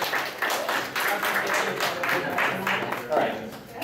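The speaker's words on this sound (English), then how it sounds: "give Amanda a round of applause, guys." Audience applause in a convention panel game show at an anime convention, a steady broadband patter of clapping with voices mixed in, moderately loud and continuous for a few seconds.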